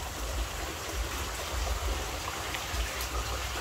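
Steady rainfall hisses continuously and fairly loudly during an early-season downpour while children bathe outdoors, with no voices standing out.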